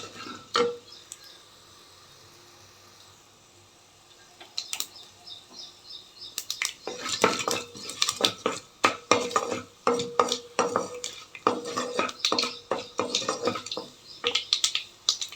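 Coriander seeds frying in a pan with mustard seeds as they are stirred, giving dense clattering scrapes and crackles after a quiet start, close and steady.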